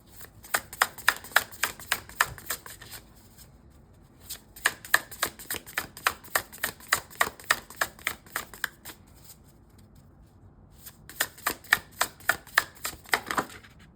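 Cards are riffle-shuffled in three quick bursts of crisp rapid flutters, separated by short pauses, close up and fairly quiet.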